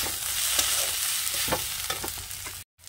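A masala with coriander and cumin powder frying for a fish curry, dense close sizzling broken by repeated scraping strokes of a spatula against the pan, no voices.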